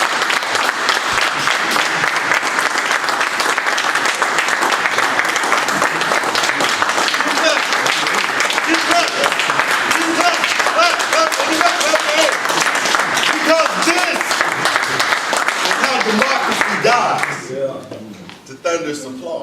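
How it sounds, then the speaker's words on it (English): Thunderous audience applause after a spoken word performance, dense sustained clapping from a large crowd that runs loud for many seconds before thinning out at the end. "Thunderous applause."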